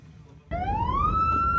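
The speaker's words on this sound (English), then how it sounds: "The sound of sirens in Rafah is constant." A wailing siren in Rafah rises steadily in pitch and sustains loudly over a low rumbling background, starting abruptly partway through.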